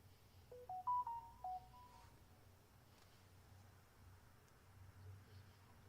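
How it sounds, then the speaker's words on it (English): A phone gives a short alert of stepped electronic beeps early on, quiet and close, against a faint background hiss during a night of stargazing. "Where's my phone yelling at me?"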